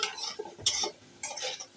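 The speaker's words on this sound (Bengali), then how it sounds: "দেখেন আমার রসুনটা ভাজা হয়ে গেছে" Garlic fries in a pan for Bangladeshi tomato vorta while a utensil stirs it, making short scraping strokes over a light sizzle in two or three quick bursts.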